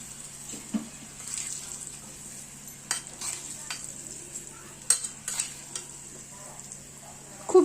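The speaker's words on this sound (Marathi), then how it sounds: "ही फोडणी आपण छान कडक फोडणी तयार केलेली आहे ना, ती अशी ढोकळ्यावर छान पसरवून घ्यायची आहे." Hot phodni spread over dhokla makes a faint, crackly sizzle with scattered spoon scrapes and small taps over a low steady hum.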